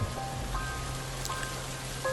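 Heavy rain falls during a motorbike ride, a steady close wash of dense patter and hiss with a low rumble underneath.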